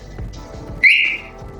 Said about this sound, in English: Where's that bird?